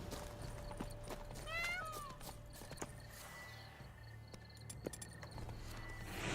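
Horse sounds from The Witcher 3: Wild Hunt video game, with hoof clops and a brief whinny-like rising call near the start, set against a steady ambient game soundscape with scattered sharp ticks.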